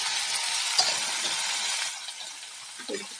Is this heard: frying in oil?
yes